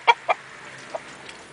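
A hen clucks, a couple of short, fairly close clucks near the start and a fainter one later, with quiet surroundings between.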